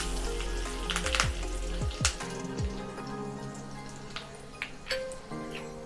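A pinch of asafoetida and finely chopped curry leaves hit hot oil in a tempering pan, giving a steady close sizzle with a few louder pops and crackles.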